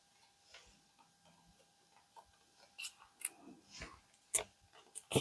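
Scissors trim offcuts of steampunk paper in faint, scattered snips and crisp clicks, growing closer and more frequent toward the end in a quiet room.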